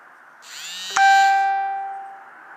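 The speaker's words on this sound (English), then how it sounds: "That was my phone." A mobile phone notification chime at night in a Portland, Oregon cemetery: a single bright, ringing two-tone ding that rises sharply, then sustains and slowly fades over a quiet hiss, with no talking.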